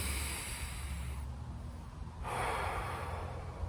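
One deep inhaled breath during a guided breathing exercise: a soft, close airy draw that swells partway through and holds, faint and alone.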